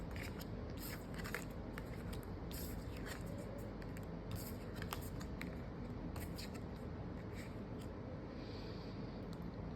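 Tarot cards being drawn and handled, faint repeated light scrapes and soft flicks of card on card against a low background hiss.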